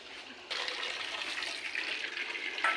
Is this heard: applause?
no